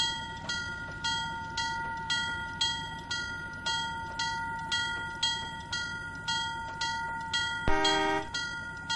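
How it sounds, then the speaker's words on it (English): Mixed freight train rolling past in the Trainz 2019 simulator on the C&O Hinton route, with steady rhythmic clickety-clack of wheels over rail joints and a brief louder burst near the end, no talking. "It's a sizable train, mixed freight."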